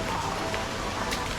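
Steady rain at Tiger Park in Phuket, Thailand, a dense continuous hiss of drops falling on surfaces nearby, with no talking.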